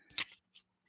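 A deck of tarot cards with gilded edges is shuffled in two brief papery riffles, close and soft, with a short pause between them.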